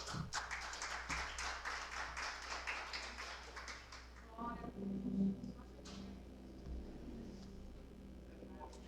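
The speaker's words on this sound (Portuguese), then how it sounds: "Dê um aplauso ao Senhor." A church congregation at a revival service claps for the Lord in a burst of scattered, fairly faint applause that fades after a few seconds, followed by a voice speaking and a few stray sounds.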